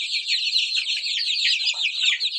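A flock of domestic chickens and chicks, Kuchinsky and Barkovsky breeds among them, peeps and chirps continuously in a dense, high, bright chorus close by.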